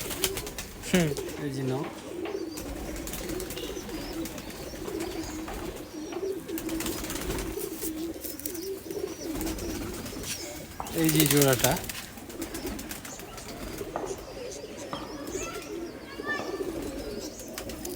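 A pair of green-eyed pigeons coo in soft, repeated rolling calls close by, heard under someone talking steadily throughout.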